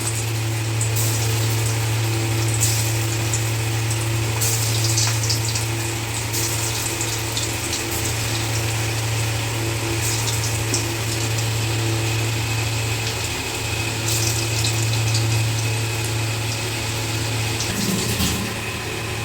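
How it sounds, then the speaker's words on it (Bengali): Soybean pakora balls deep-fry in hot smoking oil over a medium-high gas flame, giving a steady, dense, close bubbling hiss that continues without a break. "এইভাবে পকোড়াগুলো উল্টে পাল্টে ভালো করে লাল করে ভেজে নেব"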